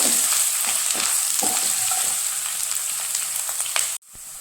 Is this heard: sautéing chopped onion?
yes